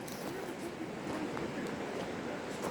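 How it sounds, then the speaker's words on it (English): Continuous soft wash of stream water tumbling over stones in a forest, even and moderately close, with a few faint ticks and no speech. "you can hear the water rushing over the stones"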